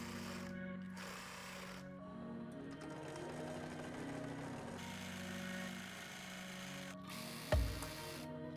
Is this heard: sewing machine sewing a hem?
yes